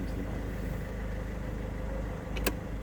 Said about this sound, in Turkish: Şu an aracımız çalıştı.